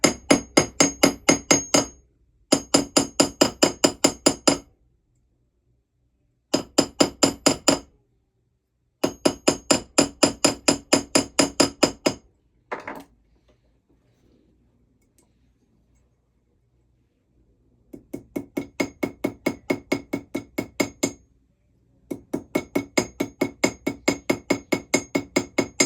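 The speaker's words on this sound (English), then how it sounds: "Let me hammer a little bit more" A small ball peen hammer planishes the metal seat of a ring, fast close bursts of rapid ringing taps separated by pauses, with a long quiet stretch in the middle.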